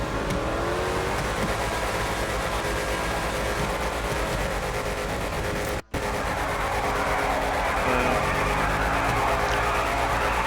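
A car engine in a roleplay video game runs loud and continuous, with a steady drone and rising rev, broken by one abrupt momentary cutout midway before resuming, no talk over it.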